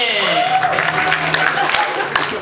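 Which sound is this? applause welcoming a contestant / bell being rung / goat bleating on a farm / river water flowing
applause welcoming a contestant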